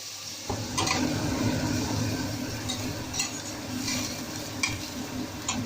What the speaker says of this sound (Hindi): अब मैं फ्लेम जो है वो कम कर रही हूँ और चला रही हूँ सिम में